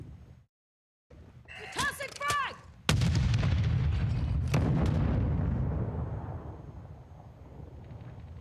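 Frag grenade explosion in a first-person shooter game: a sudden loud blast with a rumbling tail that fades slowly over several seconds, preceded by a short gap of silence and brief in-game voice and effects.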